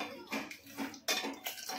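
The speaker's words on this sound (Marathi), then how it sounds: "आता मी कुकर खोलते आणि तुम्हाला दाखवते।" Pots and metal utensils clatter in a home kitchen as a pressure cooker of black chickpea (kala chana) curry is opened, with several sharp close clinks and knocks in quick succession.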